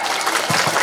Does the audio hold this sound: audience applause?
yes